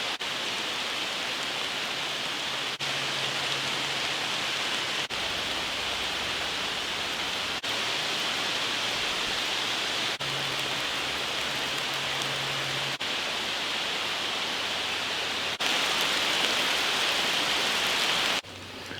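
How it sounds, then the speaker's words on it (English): Steady, dense rain falling through a forest around a rock shelter, a continuous hiss that stays broad and unbroken throughout with a brief swell near the end and no voices. "even though it sounds like it's still raining in the forest here"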